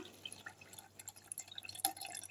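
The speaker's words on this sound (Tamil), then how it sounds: "இப்போது இந்த அரிசி கலைஞ்ச தண்ணியில் நான் புளியை கரைச்சி வச்சுருக்கேன் இந்த தண்ணி அதில் ஊற்றிடலாம்" Tamarind dissolved in rice-washing water is poured into a tomato fish curry mix, giving a quiet run of soft drips and small splashes with no talking.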